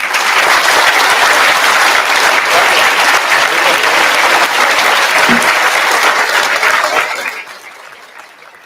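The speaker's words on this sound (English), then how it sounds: "when you're clapping for somebody, you're not clapping for them" Large audience at a summit claps steadily and loudly for about seven seconds in a dense, sustained wash of applause, then it fades quickly away.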